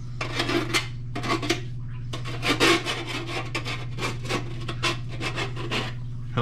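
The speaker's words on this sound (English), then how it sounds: "drag a file across it real quick. Take care of all the burrs" A hand file rasps over the freshly cut edge of sheet metal to clear burrs, in close, loud repeated strokes with brief gaps between them over a steady low hum.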